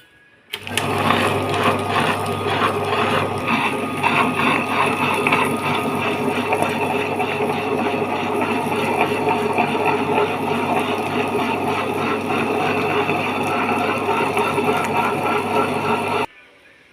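Electric wet grinder churning soaked urad dal into a coarse batter for vada, a steady loud mechanical whir with rhythmic grinding texture running continuously, starting and stopping abruptly.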